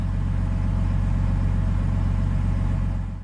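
A Chevrolet Silverado with a 3-liter Duramax diesel idles at the exhaust, a loud, close, low rumble with a fast, even pulsing clatter that holds steady throughout.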